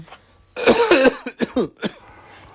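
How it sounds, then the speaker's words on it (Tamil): A person coughs several times in a rough, throaty burst, a cluster of close, loud coughs tapering into lighter ones. "ஏன்டா இருமிக்கிட்டே இருக்க"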